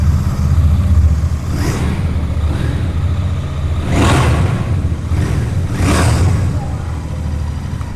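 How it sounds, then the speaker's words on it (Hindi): The exhaust of a 2026 Royal Enfield Bear 650 motorcycle rumbles steadily up close, with several rising revs swelling over a constant low drone. "कुछ इस तरह का एग्जॉस्ट नोट मिल जाता है विद द इंटरसेप्टर BR650"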